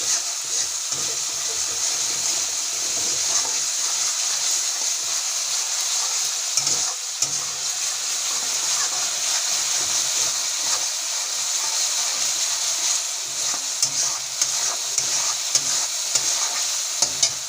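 Prawn curry simmering with added water in a pan is stirred continuously, with a steady sizzling hiss and the repeated scrape and clack of a spoon against the pan, close and unaccompanied by talk.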